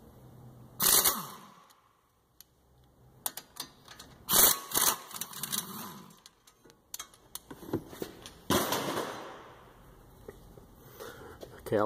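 A half-inch ratchet breaker bar works the front brake caliper bolts loose on a Ford Focus, giving a few sharp metallic clicks and clunks spaced apart, with quiet muffled voices between them.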